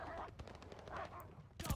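Combat shotguns fire in Call of Duty: Vanguard, with a quick run of faint, sharp blasts followed by a louder, closer shot at the end.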